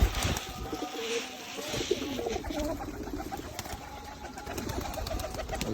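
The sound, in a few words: pigeons at feeding time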